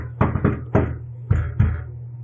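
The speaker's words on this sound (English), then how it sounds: "knock on the door." Knocking on a door, loud and close: two quick raps, a third, then a pause and two more, with no voices.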